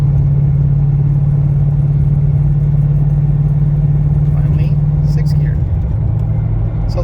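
Ford Mustang fitted with a Stage 3 Gen 3 manual transmission cruising in fifth gear, a loud, steady low engine and drivetrain drone filling the cabin, easing slightly near the end.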